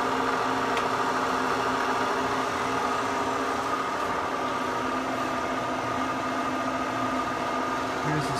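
A cylindrical grinding machine runs its cycle as the wheel head feeds in, giving a steady, even mechanical hum with tonal whine and light vibration. The level holds constant throughout and no one speaks.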